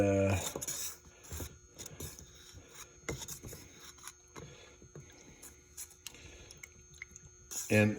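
Leftover Chris Craft mahogany wood stain is stirred in a can, giving soft, irregular scraping and rubbing strokes with small clicks, close and fairly quiet, with a voice talking over it.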